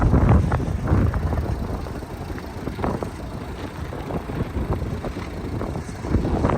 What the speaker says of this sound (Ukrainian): Слухайте, як двигун моркоче. Тихесенько, приємно працює.